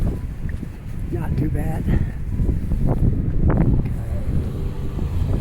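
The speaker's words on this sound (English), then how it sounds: "A little bit windy up here" Wind buffets the microphone with a steady low rumble and gusts, while a person talks over it and street traffic in Halifax hums nearby.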